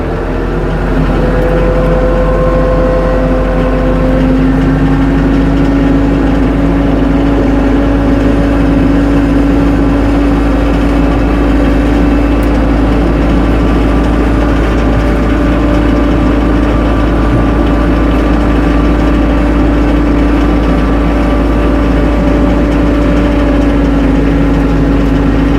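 A tractor fitted with pewag Doppelspur snow chains creeps slowly through snow, its engine droning steadily and loudly at close range throughout with a constant low hum.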